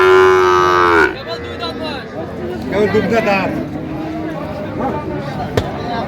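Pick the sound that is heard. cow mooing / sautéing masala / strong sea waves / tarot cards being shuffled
cow mooing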